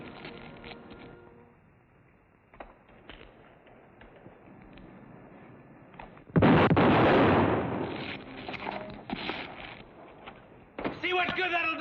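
Gunshots in a 1954 Billy the Kid western TV drama ring out as a loud, booming blast with a long rumble, with scattered knocks before it and someone talking afterward.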